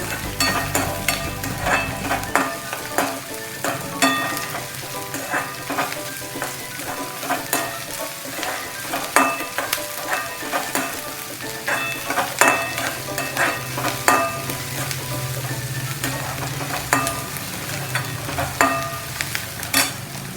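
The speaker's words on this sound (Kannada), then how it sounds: "ಇದು ಈರುಳ್ಳಿ, ಇದನ್ನು ಸ್ವಲ್ಪ ಚೆನ್ನಾಗಿ ಬಾಡಿಸ್ಕೊಳ್ಬೇಕು." Onions sautéing in a pan for honagone soppu bassaru, a continuous close sizzle broken by frequent rhythmic spatula scrapes and taps, loud and steady with no talking.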